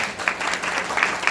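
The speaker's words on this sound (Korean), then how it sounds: "큰 박수로 함께 시작하도록 하겠습니다" A short burst of audience applause, steady clapping from a small lecture audience with no speech.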